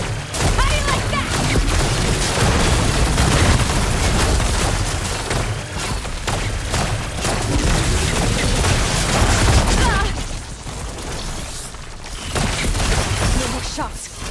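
Heavy weapon firing in the action game Horizon Forbidden West, dense continuous volleys of booming shots and blasts, loud and close, easing briefly near the end before resuming, with a voice at times.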